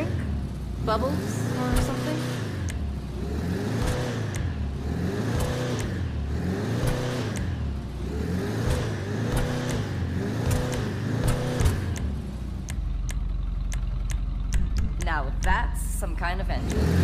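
A Willard Eudora car engine in GTA Online revs repeatedly in rising and falling sweeps, a steady rhythmic idle-to-roar cycle, with a voice talking over it; the revving gives way to clicking and mechanical sounds near the end.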